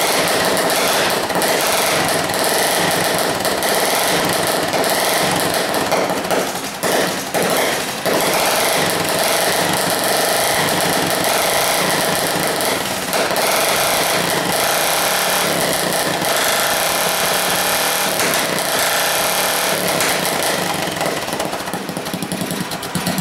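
A homemade cart's small engine fired up and running, a loud, steady, high-pitched buzzing roar that holds for the whole stretch with slight surges and no talk over it.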